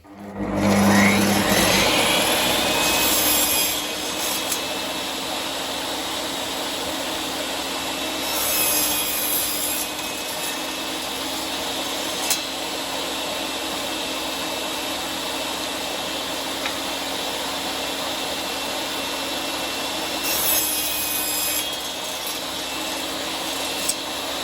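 A Metabo TS 254 M 1500W table saw cuts wood, its loud spin-up settling into a steady motor whine with several bursts of blade biting into timber, recorded close without talk.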